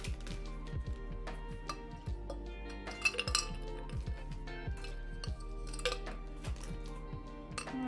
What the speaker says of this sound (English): I'm gonna put ice in this cup first.